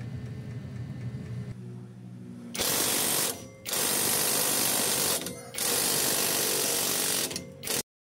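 A power tool loosens the top bolt and the lower nut on the stock shock absorber of a Suzuki Wagon R Stingray minivan, giving loud rattling impact bursts in three long runs separated by short pauses, close up and alone.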